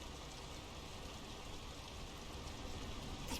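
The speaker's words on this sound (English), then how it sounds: "The rain's picking up." Steady rain pouring down in a Norwegian village in the video game Draugen, a dense, even hiss that holds constant throughout with no voices.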